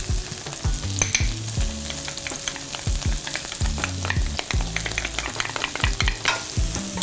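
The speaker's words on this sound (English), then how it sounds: "I want to saute this up just until it's fragrant" Shallots and garlic sizzle in butter in a pan, a steady close frying crackle broken by repeated scraping and clacking as a utensil stirs and tosses them, with no voices.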